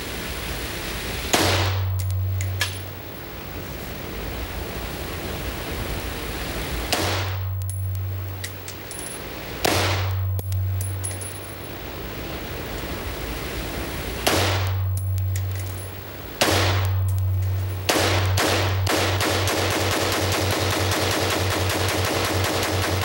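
Bursts of automatic gunfire at an outdoor gun range, with several loud rapid strings of shots separated by pauses, close and dominant.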